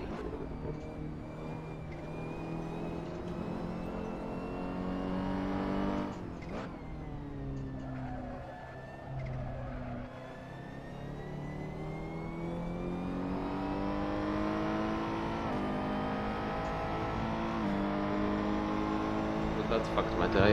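Race car engines in a racing video game at the Nurburgring, unrestricted prototypes around 600 horsepower, droning and revving steadily with rising and falling pitch throughout, under a player's talk.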